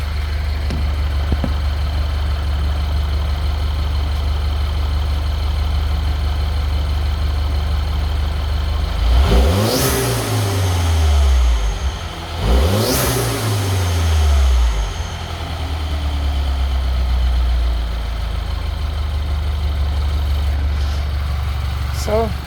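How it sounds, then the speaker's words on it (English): A 2013 Mini Cooper JCW R58 engine idles steadily close by, then revs sharply twice, each rev swelling and falling back to the idle, which holds to the end. "You can hear kind of how the engine sounds."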